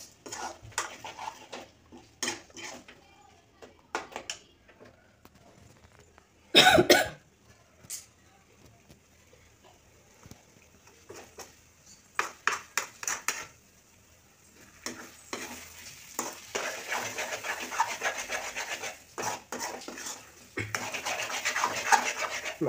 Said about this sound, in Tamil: நல்லா அழகாக வந்து இந்த கரண்டியை வச்சு கிண்டி கொடுத்துட்டே இருக்கணும்